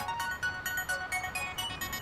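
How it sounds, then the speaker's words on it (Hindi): A bright electronic phone ringtone repeats a short melodic pattern in quick pulses, loud and close, with no voices. "किसका फोन है?"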